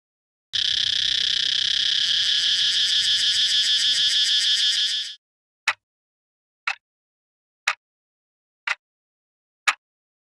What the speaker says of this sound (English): That was a cicada.